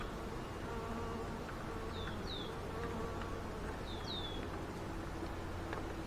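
Honeybees buzz in a dense, steady drone close by during a hive inspection, with a few brief higher whines from individual bees flying past.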